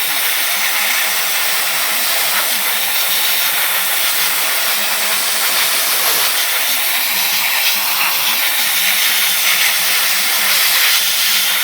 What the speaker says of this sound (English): now I've just got air blowing. Speed drying it just a little bit